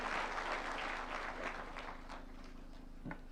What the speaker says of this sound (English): Why don't we welcome him with a clap?